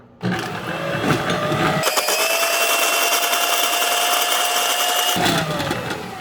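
An electric mixer creams cream cheese in a bowl, starting up with a loud steady whir, shifting pitch briefly near two seconds, then running evenly for several seconds before winding down.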